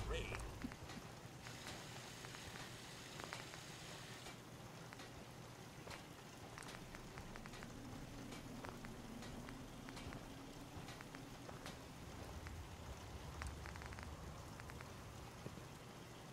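Steady rain patters in the video game Fallout 4, a faint constant hiss that carries on alone for the whole stretch with only brief faint sounds over it.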